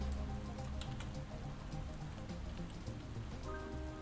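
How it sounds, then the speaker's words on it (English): Steady rain drums on an aircraft in the X-Plane 11 flight simulator, a dense, continuous patter with a low rumble beneath it, holding at an even level throughout without any voices. "oh, it is still raining"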